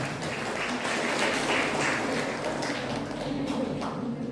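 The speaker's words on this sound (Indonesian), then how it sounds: "Tepuk tangan." A hall audience at a university graduation ceremony clapping together, dense and steady applause filling the room at moderate loudness for several seconds.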